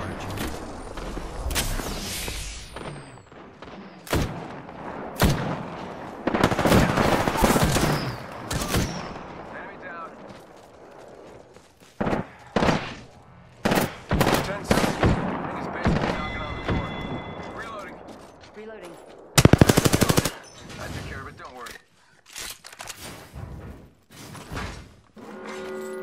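Gunfire in the PS4 battle royale Apex Legends during a crowded fight near the ring, with sharp shots and short bursts scattered throughout, interleaved with players' voices and other game effects.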